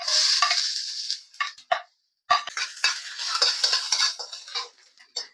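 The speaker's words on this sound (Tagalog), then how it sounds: "igigisa-gisa lang natin to hanggang lumabas yung aroma niya guys ha" Ginger sautéing in a little oil in a pan, with loud clattering of a utensil against the pan and bursts of scraping, a short pause midway, then more stirring and frying noise.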